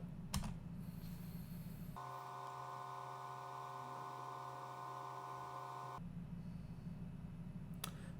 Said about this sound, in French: donc on appuie sur Enter